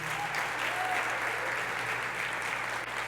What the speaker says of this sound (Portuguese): Você pode dar mais um aplauso aí para Jesus?